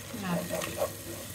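Ground chili, black pepper, cinnamon, cardamom and white pepper sizzle in a pan with a splash of water for a raw jackfruit curry. A steady, close frying hiss runs throughout, with light stirring.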